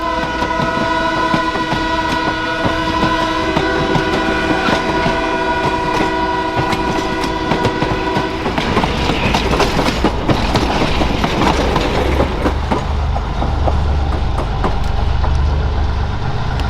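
A CN freight local with a pair of SD70M-2 locomotives departs Oakwood Yard in Metro Detroit, its loud sustained horn chord blaring up close over idling diesel rumble before giving way to rolling wheel clatter and engine roar.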